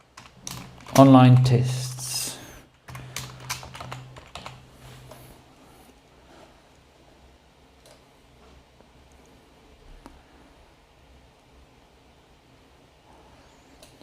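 Typing on a computer keyboard, a run of crisp close key clicks and taps scattered across the clip, with someone briefly speaking near the start.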